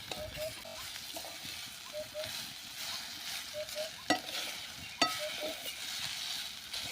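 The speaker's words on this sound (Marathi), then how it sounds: "या तुपावरती आपण टाकूया परतून घ्यायचं आहे" Grated sweet potato for halwa frying in ghee, a soft steady sizzle with quiet scraping stirs, two sharper scrapes standing out, all at low level with no voices.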